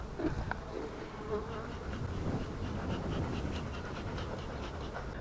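Honeybees at an open hive hold a dense, continuous buzzing drone throughout, close and fairly quiet, with no talking.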